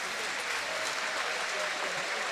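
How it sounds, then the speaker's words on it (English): A stadium crowd at the Stade Charléty in Paris applauding Fiji's rugby sevens pool victory, a broad, steady wash of clapping heard from a distance with faint voices mixed in. "the victory greeted by the knowledgeable crowd here at the Stade Charletti"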